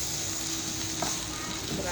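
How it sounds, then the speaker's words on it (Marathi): Spices such as mutton masala, coriander powder, red chilli and turmeric sautéing in hot oil, a steady close sizzle with stirring scrapes throughout. "असं आता तेल चांगलं मस्त असं सुटत तर ना असं परतून घ्यायचं."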